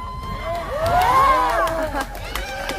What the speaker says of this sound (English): Listen to them cheer.